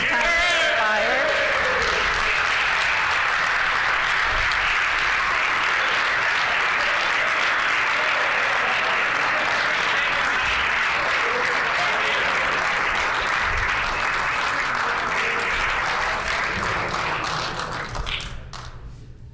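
Sustained applause fills a legislative House chamber for honoured Indigenous clan mothers and women, a long, loud wash of many hands clapping that holds steady before tapering off at the close.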